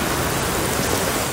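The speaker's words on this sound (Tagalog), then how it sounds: "Naramdaman din ang malakas na hangin at ulan" Heavy rain and strong wind from a typhoon roar steadily and densely in Legazpi City, Albay, a constant wash of noise with no pauses.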